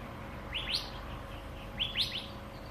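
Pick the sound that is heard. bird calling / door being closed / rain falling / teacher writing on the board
bird calling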